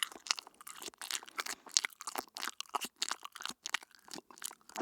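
Crisp, crackly bites and chewing on a crunchy Kwik Trip Mountain Dew Dunkers donut, a rapid run of close, dry crunches repeating steadily with no talking.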